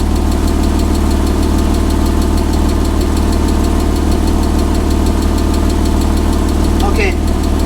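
A Porsche Boxster engine idles steadily at close range while the transmission warms up, a constant low, rough mechanical hum with faint rhythmic knocking, unbroken throughout and a brief small clink near the end.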